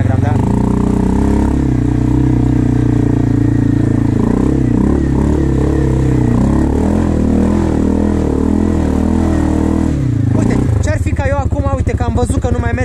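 CF Moto 450 ATV engine running loud and close, a steady droning idle with harmonic hum that shifts and rises sharply near the end, with someone talking over it.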